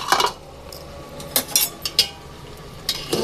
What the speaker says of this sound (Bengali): শাকটাকে নেড়ে দিই।